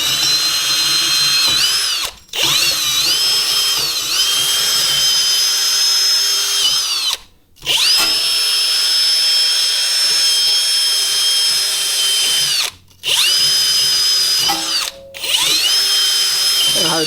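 Power tool running at high speed to clean rust off the rear brake of a 2021 Ford F150, a loud close whine held in long stretches with brief pauses.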